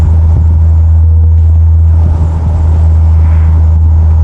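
Loud, steady low engine rumble and road noise inside a driving Jeep truck with a rusted-out frame. The drone is constant throughout, with no talking.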